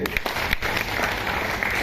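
Dense applause from an audience at a training seminar, a steady wash of many hands clapping at once for about two seconds, fairly loud and close.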